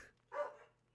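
A single short, faint dog bark sounds once at a distance against a quiet background.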